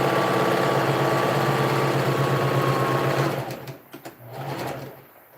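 A sewing machine runs a straight stitch on a princess-dart dress, a loud, close, rapid steady whir for about three seconds, then it slows into a few stuttering bursts and stops.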